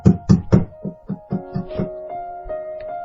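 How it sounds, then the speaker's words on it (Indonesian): A series of knocks on the front door of a house, several sharp raps in quick succession followed by a few softer ones, close and clear with no talking. "Suara ketukan di luar pintu rumah Diva."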